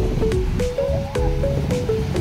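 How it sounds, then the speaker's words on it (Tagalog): Waves wash steadily onto a beach at Sto. Niño Beach in Tanza, Cavite, heard as a continuous broad surf and wind rush, with faint tonal sounds drifting through. "Ayan guys ang dagat oh"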